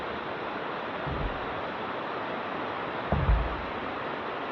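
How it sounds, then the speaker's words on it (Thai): Water of the second tier of Bua Tong waterfall rushing in a steady broadband roar, with a couple of brief low thumps nearby. "มาถึงน้ำตกชั้นที่สองแล้วนะ"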